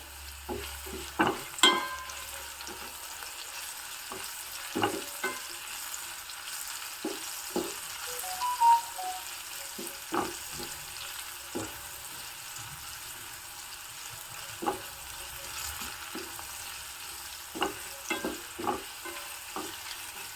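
Cloves and cinnamon frying in a pan, with a soft steady sizzle under scattered stirring clicks and scrapes, close and quiet with no talking.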